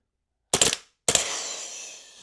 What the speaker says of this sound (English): Not the most fast cycling airsoft gun I've ever seen